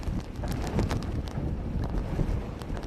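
Strong typhoon wind in Malabon, Philippines, in September 2006 roars and buffets the microphone in a continuous, rumbling gusty rush, with no voices heard.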